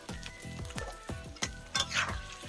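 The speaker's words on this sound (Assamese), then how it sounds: "এতিয়া কাঢ়ি আলুখিনি এতিয়া ভাজা হৈ গ'ল" Potatoes fry in a pan with turmeric and salt, sizzling under a run of sharp, rhythmic scrapes and clinks of a spoon against the metal.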